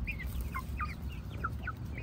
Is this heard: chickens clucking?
yes